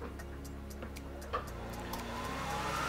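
CNC router spindle motor running steadily, a faint, constant hum with a thin rising whine and a soft rhythmic ticking, heard up close in a quiet shop.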